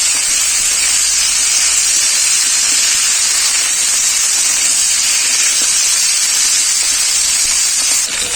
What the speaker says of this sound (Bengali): ভালো করে মাছের মাথাগুলোকে ভেজে নেব।